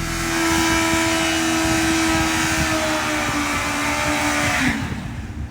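A motorcycle fitted with Brock's Performance aftermarket exhaust pipes, heard from the rear, gives a loud, sustained roar at steady revs for about five seconds, then the note drops away suddenly near the end.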